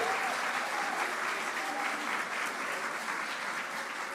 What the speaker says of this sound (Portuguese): Vamos fazer uma salva de palmas nesse momento?